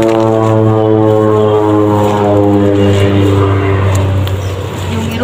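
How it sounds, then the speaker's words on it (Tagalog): A propeller airplane drones loudly overhead in a steady harmonic hum that holds for several seconds before easing slightly, close and dominant with no talk over it. "Yung eroplano na yun mga ka-idol,"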